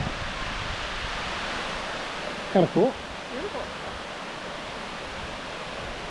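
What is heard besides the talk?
waterfall in Shenandoah National Park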